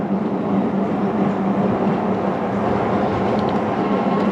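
A Tomofree x YYG BR100 moped-style e-bike pulls away on throttle alone, giving a steady, even motor hum with road and wind rush that holds constant and close throughout.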